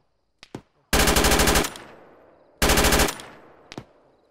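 Automatic gunfire from an enemy shooter in a military video game: two sustained rapid bursts of loud, close machine-gun fire, with a few isolated single shots before and after, and no talking.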